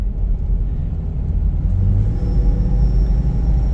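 A car runs down the road with a steady low engine rumble and tire roar, constant and close from the cabin, with no voices.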